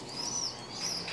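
Native baladi pigeons make soft, brief cooing calls in two short phrases, faint and close against a quiet hum.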